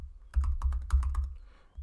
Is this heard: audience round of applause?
no